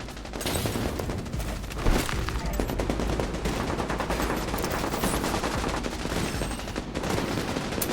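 Automated turret fire in The Division 2, a dense, continuous rattle of rapid gunshots, loud and near, with a heavier thump early on and unbroken fusillade throughout.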